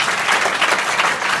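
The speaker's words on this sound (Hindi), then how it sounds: "वेरी गुड, जोरदार ताली बजाओ" Schoolchildren in a classroom clap together loudly and continuously, a thick burst of close-range applause with no talking over it.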